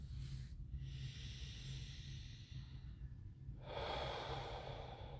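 Slow, deep breaths during a guided breathing exercise in a personal growth session, quiet and close, with long airy inhales and exhales and no talking.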